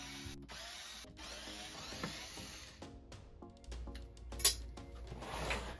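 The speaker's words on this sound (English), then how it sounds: "Now we remove 6 screws that is holding down the side and the back panel onto the bottom of the speaker." A power screwdriver backs out screws from the side and back panels of a JBL PartyBox Club 120 speaker in short whirring bursts, with small clicks and rattles of parts in between, heard up close.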